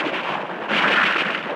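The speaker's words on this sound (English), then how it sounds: "A state-of-the-art neural interface, whether it's retinal or auditory, sounds like this." Degraded, simulated sound as heard through an auditory neural interface: a dense, harsh wash of noisy hiss and rumble lasting under two seconds, loud and steady with a slight swell midway and no clear tones.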